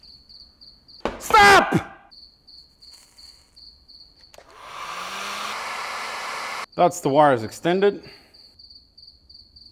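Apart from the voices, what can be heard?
cricket chirping indoors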